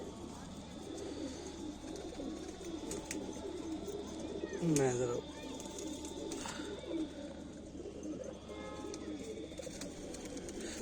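Pigeons in a breeding loft coo softly in repeated low, rolling calls, with a brief louder burst midway, while someone talks nearby over the birds.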